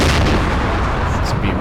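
Tank gunfire in the Cold War tactical wargame Combat Mission: Cold War, heard as a loud, dense booming roar that fills the whole short stretch without pause.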